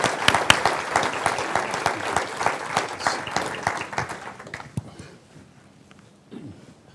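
An audience applauds to welcome Ken Feinberg at the Sager Speaker Series, a dense burst of clapping that rises, holds for several seconds, then thins out to scattered claps and quiet.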